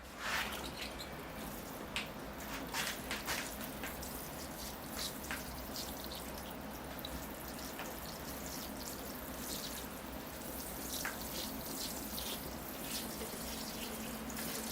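Water poured onto a bonsai desert rose planting in sandy soil, a soft continuous trickle and patter with occasional drips, faint and close, with no talking.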